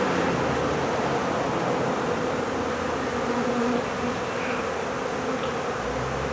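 A swarm of honeybees buzzes densely and continuously at a hive, a steady, close, even drone with no voices.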